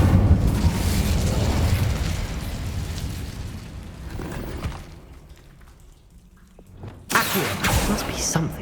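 A fiery Incendio spell blasts in Hogwarts Legacy, a loud burst with roaring, crackling fire that fades over several seconds before another sharp eruption flares up near the end.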